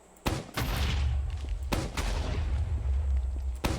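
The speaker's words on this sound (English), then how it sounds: "use the grenade launcher here" A grenade launcher firing and grenades exploding in Team Fortress 2, heard as several heavy booming blasts in quick succession, each with a rumbling low tail, close and loud.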